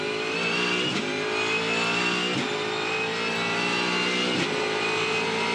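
Onboard a Supercars touring car at a circuit race, the engine howls steadily at high revs with brief dips at each gear change roughly every one to two seconds, loud and close with no voices.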